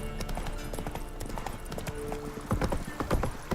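A horse's hooves clip-clop rapidly and steadily at a trot or gallop in The Witcher 3: Wild Hunt, loud and close over a game soundscape, with someone talking over it.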